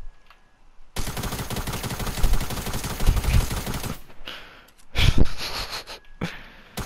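Gunfire in the video game Fortnite, a sustained rapid burst of automatic shots lasting several seconds, followed by a few shorter, sharper shots and bits of breathing.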